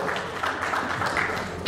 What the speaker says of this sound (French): Est-ce que tu peux applaudir pour notre enfant,